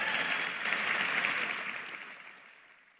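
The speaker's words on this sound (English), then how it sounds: "How about a round of applause for that?" A crowd's sustained applause, a dense wash of clapping that holds steady and then gradually fades out.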